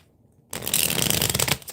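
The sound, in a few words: shuffling a deck of tarot cards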